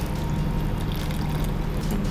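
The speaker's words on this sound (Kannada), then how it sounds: "ಇದಕ್ಕೆ ಸ್ವಲ್ಪ ನೀರು ಹಾಕೋಣ." Water pours into a cooking pot of tomatoes and garlic in a steady rushing stream that runs throughout, close and fairly loud, with no voices.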